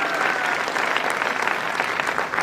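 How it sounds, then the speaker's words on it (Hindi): Dense audience applause from a crowd at a success celebration event, continuous and even clapping throughout with no voices breaking through. "संस्था के नाम से जोरदार ताली बजाइए"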